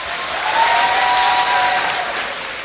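Sustained audience applause fills a talent show hall on Moldova Are Talent, a dense, steady wash of many hands clapping at full strength before easing slightly toward the end.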